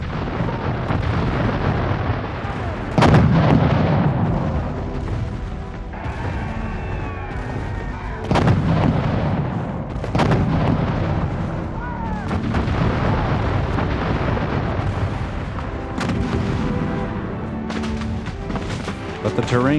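Civil War cannon fire at a battle re-enactment, a series of heavy booms at irregular intervals over rumbling background noise, loud and fairly close, with a voice narrating throughout.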